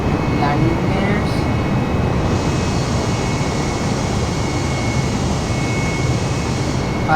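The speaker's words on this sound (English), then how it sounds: "Take off, and let's retract the landing gears." An airliner takes off from Zurich in a flight simulator game, its jet engines giving a steady, loud broadband roar that holds throughout, with faint cockpit chimes.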